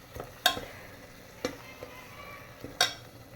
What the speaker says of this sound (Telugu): అంతవరకు వేయించుకోవాలా.